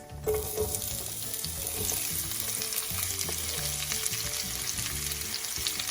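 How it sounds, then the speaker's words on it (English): Onions sizzle and fry steadily in hot oil with a little cumin, a close, continuous crackle with occasional stirring clatter and no talk. "now at this stage we will have to add the onions"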